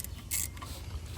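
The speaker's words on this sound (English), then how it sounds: "Break all the bolts loose" Ratchet working on the coil pack bolts of a Mercedes GLS 63 (X166) during a spark plug change, giving one short burst of clicking over a quiet garage background.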